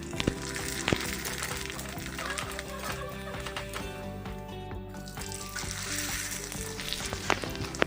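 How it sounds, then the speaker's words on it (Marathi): Kurdai and papdi, crisp fried snacks, bubbling and crackling in hot oil during festival cooking, a busy continuous sizzle with frequent sharp pops and spits throughout. "आता मी इकडे कुरडी पापडी तळण वगैरे सर्व करून घेते"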